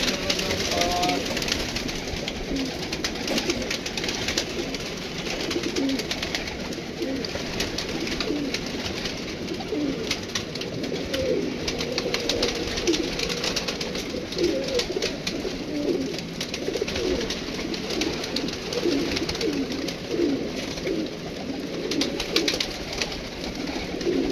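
Pigeons coo steadily in soft, repeated rolling calls, with voices talking over them and a constant background hum throughout.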